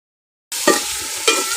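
Meat for a chicken aloo matar curry tipped into a hot pot of frying masala, starting abruptly after brief silence with a loud hiss and sizzle and two heavier thuds or stirs, close with no talk.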